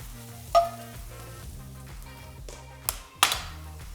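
Mushrooms cooking in a pan give a quiet, steady sizzle under a low hum, broken by a few sharp taps and clicks of a utensil against the pan.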